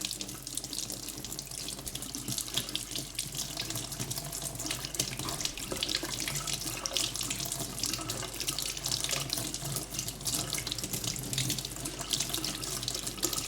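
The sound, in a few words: rinsing the inside of a briar pipe under tap water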